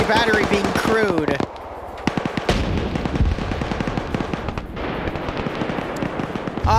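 Machine guns spray a house in a military combat game, with dense rapid bursts crackling almost without pause, sharp individual shots mixed in and a voice talking over the firing.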